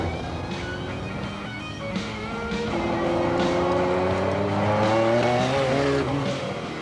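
Lightweight tuned car accelerating hard on a test track, engine note rising steadily through the gears, loud and close, with no talking.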